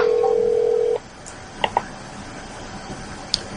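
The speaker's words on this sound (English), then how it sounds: "It's automatically going to start calling out through your Cisco IP communicator" The Cisco IP Communicator softphone on a computer gives a steady electronic call tone for about a second, then falls quiet apart from a few faint clicks.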